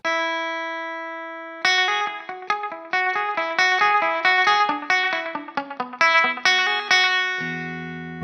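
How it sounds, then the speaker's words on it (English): An electric guitar is played through a Suhr Discovery analogue delay pedal. A sustained chord rings out, then quick high-string notes follow, each trailed by repeating echoes, and a lower chord closes the passage, with no talking. "you're still getting echo on those top strings"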